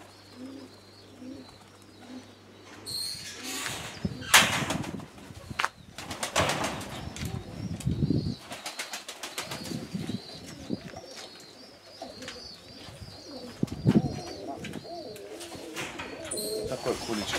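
Pigeons in a dovecote cooing and bursting into wing flaps in bursts, close and fairly loud, with quieter stretches between, and people talking nearby at times.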